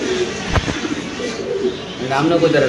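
Domestic pigeons in a home loft, a pair sitting on eggs, give low, soft repeated coos, with one sharp thump near the start and faint voices in the background.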